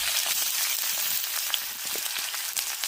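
Chopped ginger sizzles in hot oil in a pan while fish curry with potatoes is being cooked, a steady dense crackle that holds close and even throughout, with a few sharper pops over the constant hiss.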